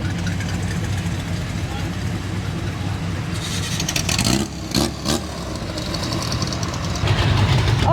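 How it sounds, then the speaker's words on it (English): Classic cars rumble and idle at a Goodguys car show in Des Moines, Iowa, a steady engine drone with a couple of louder passing revs, mixed with crowd chatter and voices nearby. "you can hear from behind me that there is a lot happening here, and this is the exciting part. The cars are moving"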